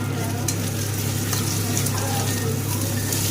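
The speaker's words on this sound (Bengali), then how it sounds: "একই সাথে মশলার সাথে টমেটোটাকে কষিয়ে নেব।" Chopped tomato frying with spices in a pan while cooking Bihari-style chicken kosha, a loud, steady close sizzle with occasional stirring scrapes throughout.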